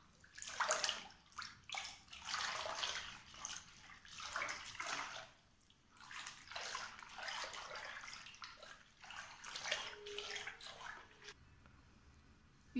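Water sloshes and splashes in a tub as shampoo is stirred into a foot-soak for a home pedicure, in irregular bursts of swishing with short pauses, close and moderately loud, without speech.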